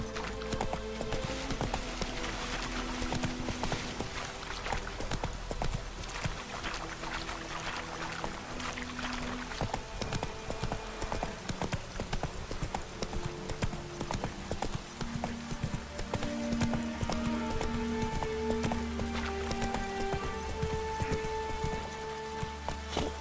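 Geralt's horse Roach gallops across The Witcher 3 terrain. A long, even run of clip-clopping hoofbeats stays close and loud over droning game music.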